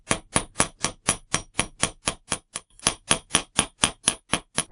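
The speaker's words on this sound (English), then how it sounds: "Place that on the steel block, hammer it out." Sharp metallic hammer blows on wire against a steel block ring out one after another in a steady, even rhythm, about four strikes per second, close and loud.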